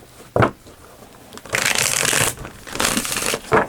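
A Modern Witch Tarot deck being shuffled by hand, a brief card riffle followed by two longer bursts of crisp, papery riffling close to the microphone, with no voices.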